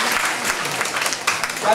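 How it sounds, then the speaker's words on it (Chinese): Audience applause at an evening political gathering on Taiwan's medical history, dense steady clapping throughout with a sharp swell near the end. "大家掌声欢呼！"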